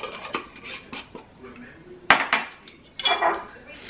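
Cutlery scrapes and clatters against a salad bowl as greens with dressing and a little salt and pepper get stirred, a few sharp clinks standing out among softer rustling and tossing strokes, close by.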